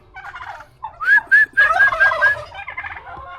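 A tom turkey gobbles close by, a loud rapid burst of warbling notes, surrounded by softer clucks and calls from other birds.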